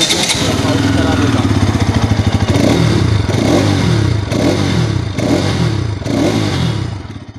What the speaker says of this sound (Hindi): तो चलिए सबसे पहले मैं आपको इसके एग्जॉस्ट के साउंड करा देता हूँ।